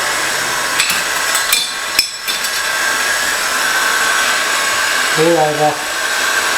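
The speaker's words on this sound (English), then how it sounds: "just using a heat gun, just give it a little bit of light" A heat gun gently warms a Ford Escort scuttle repair panel, its steady blowing roar running throughout with a few knocks and taps near the start and a brief spoken word near the end.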